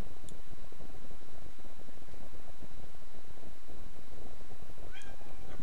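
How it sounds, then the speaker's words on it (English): Cat meowing indoors, a couple of short calls standing out against steady background noise, with no talking. "And I got the cat here, bothering me."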